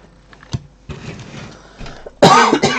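A person coughs indoors: one short cough, then a stretch of rough throat-clearing sounds, and finally a loud burst of harsh coughing near the end, with no speech.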